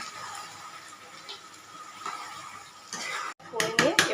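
Stirring chicken in a pan with a paste of sour curd, cashew, poppy seed, tomato and cumin: soft scraping and clinks of a spoon against the pot, fairly quiet at first, then a louder burst of scraping near the end.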